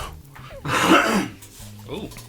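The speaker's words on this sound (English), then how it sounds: "sorry, I had to clear my throat there" A single rough, raspy throat clearing, close and fairly loud, with faint low background hum before and after.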